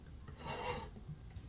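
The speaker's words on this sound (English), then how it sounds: "scrape the fingerboard with a scraper" A steel scraper rasps along a violin fingerboard in a workshop, a single close, dry scraping stroke that swells and fades over about a second.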